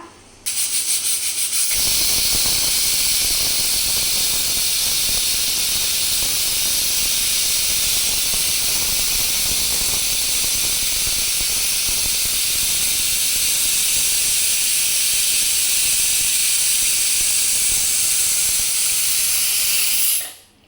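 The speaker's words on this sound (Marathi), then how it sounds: "ही बघा आता कुकरची शिट्टी होईल" A pressure cooker cooking dal lets off a loud, continuous whistling hiss of steam that holds steady for about twenty seconds, then cuts off.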